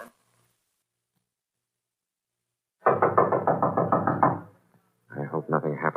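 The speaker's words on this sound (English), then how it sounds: "We'll go to the door and knock on it." Knocking on a door as a radio drama sound effect: a close, loud volley of rapid raps, a pause, then a second shorter burst of knocks.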